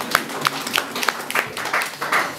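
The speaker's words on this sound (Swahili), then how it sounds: "Kama umebarikiwa na unaweza kumpigia Yesu makofi" A church congregation claps for Jesus during a service, with uneven, scattered handclaps that thicken into brief applause.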